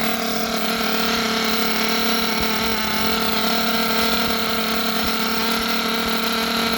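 A small nitro engine screams at high RPM during break-in, a loud, steady, continuous whine with dense harmonics that barely wavers across the whole stretch, close up and alone with no voices.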